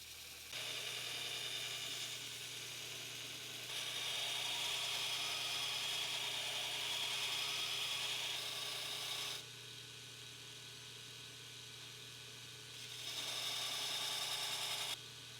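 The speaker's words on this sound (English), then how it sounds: "I use my 2x72 belt grinder with a 36 grit belt, and it makes quick work of profiling out this knife." A 2x72 belt grinder running a 36 grit belt to profile a knife cut from an old file, a steady motor whine with louder grinding bursts as the steel presses against the belt, no talking.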